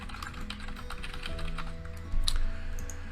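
Quick, steady keystrokes on a computer keyboard while a name is typed into a funnel-building web app, close and fairly soft over low hum, with no talking.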